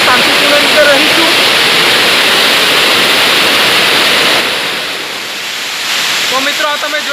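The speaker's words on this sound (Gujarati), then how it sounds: "તો મિત્રો તમે જોઈ શકો છો આદિવાસી ધોધ" Aadiwasi waterfall in Vansda, Gujarat, pours in a steady, loud broadband roar that softens briefly before swelling again, with faint voices and bird-like chirps at the edges.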